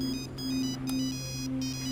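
A phone ringtone plays steadily, a repeating electronic melody with bright tonal notes, close and fairly loud, with no talking.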